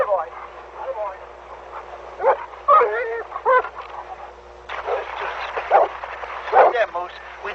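A dog whimpers and gives a few short barks close by, interleaved with people talking over a radio-like, narrow-band soundtrack with a low steady hum.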